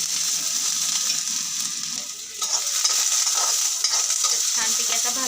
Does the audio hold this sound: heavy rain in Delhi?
no